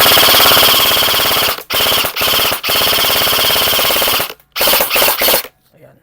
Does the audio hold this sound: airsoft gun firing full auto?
yes